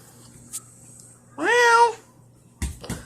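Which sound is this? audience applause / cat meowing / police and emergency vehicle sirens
cat meowing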